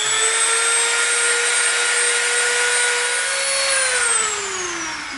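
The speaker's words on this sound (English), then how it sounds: "Now we're gonna go in with our smoother Dremel bit." A Dremel rotary tool with a smoothing bit runs on EVA foam, a loud high steady whine that holds its pitch, then drops and slows near the end as the tool winds down.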